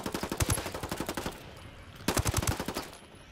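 Rapid automatic gunfire from the online shooter game Ghost Wars, two loud bursts of quick repeated shots separated by a short lull.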